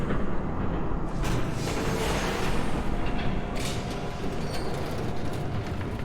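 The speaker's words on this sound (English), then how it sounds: "There's a train coming." A train rolls past in the Telltale Batman video game with a loud, continuous rumble of cars and wheels, plus a couple of brief metallic squeals, with no talking.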